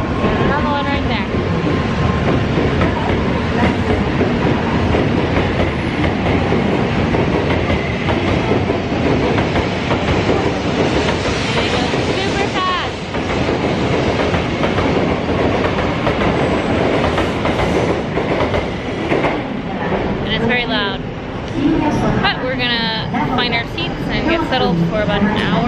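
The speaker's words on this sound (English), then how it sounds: "All the bullet trains there. They come like every 5 minutes. There's another one right there." Japanese bullet train passing near a station, loud continuous rail rumble and clatter with people talking over it.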